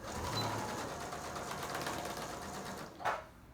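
Sewing machine stitching a fabric seam for a Halloween trick-or-treat bag, a steady close mechanical whir running throughout, ending with a short louder knock or thump as it stops.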